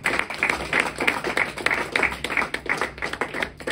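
A church congregation clapping together at a French-language worship service, a steady rhythmic beat of many hands, close and fairly loud, continuing without a break.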